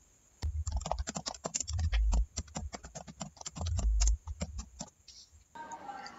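Steady typing on a computer keyboard, a fast run of close, crisp key clicks with a few heavier thumps, stopping just before the end.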